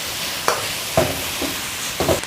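Raw lotus root is stir-fried in a wok, a soft background sizzle broken by three sharp scraping clanks of the spatula at roughly half-second intervals.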